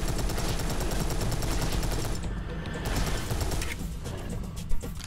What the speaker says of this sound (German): Alter, ich baller mich hier komplett leer an Munition gerade